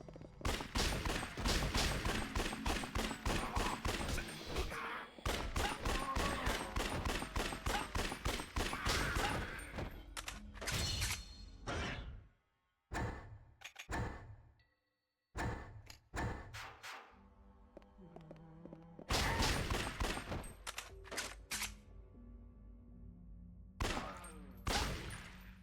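Gunfire in the video game Yakuza Dead Souls rings out in loud, rapid bursts of repeated shots, broken by short silent gaps and single scattered reports before another dense volley.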